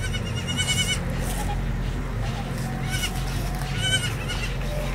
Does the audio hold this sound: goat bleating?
yes